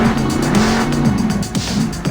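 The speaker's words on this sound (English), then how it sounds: "you'll need to reverse your truck out of a tight spot" A monster truck reversing in Monster Jam Steel Titans, a loud, steady engine drone with tire squeal and skidding running throughout, close and unbroken, with no voices.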